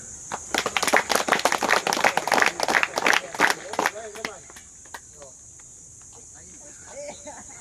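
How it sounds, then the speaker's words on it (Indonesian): A class of students claps hands together in a counted burst of about ten quick, loud claps, the strokes bunching at first and then thinning out into scattered faint taps and murmuring. "kita tepuk tangan 10 kali."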